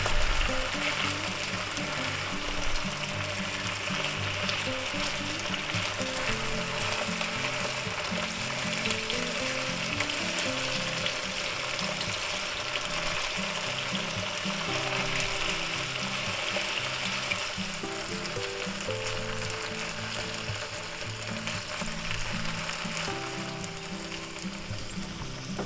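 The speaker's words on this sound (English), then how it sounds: "All right, let's stir them up a bit." Potatoes fry in a pan with a soft, steady sizzle under rhythmic scraping and clicking as they are stirred, moderately quiet and close.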